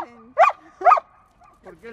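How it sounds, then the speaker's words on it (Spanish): A dog that has just had a bath gives two sharp, loud barks close by, followed by softer whimpering yips, with a faint voice speaking in the background. "¿Qué ladras así? ¿No te gusta?"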